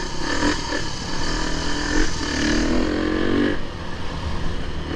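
A Beta enduro motorcycle engine running close by, a strong buzzing drone that rises and falls in pitch in a few revving swells before settling back.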